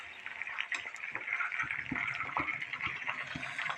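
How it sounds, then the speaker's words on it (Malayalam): Hibiscus flowers frying in oil to make a hair oil, a continuous bubbling, crackling sizzle with scattered pops, fairly close and steady with no talking. "ഇപ്പം അത് എണ്ണയ്ക്കകത്ത് നിന്ന് ചൊങ്ങി നല്ലപോലെ മുരിയണം"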